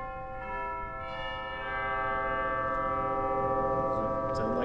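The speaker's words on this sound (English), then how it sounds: "Sound like nice big Deegan chimes." Large Deagan Class A tubular organ chimes on a 2011 Schantz pipe organ in a church, struck without dampers so the bright metallic tones ring on and sustain loudly, with a fresh strike near the end.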